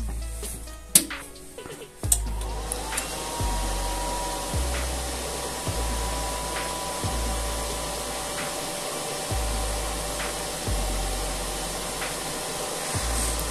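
A Stahlwerk MIG200ST welding machine is switched on and its cooling fan runs as a steady whir, with a sharp click at start-up and regular low thumps repeating about every second throughout.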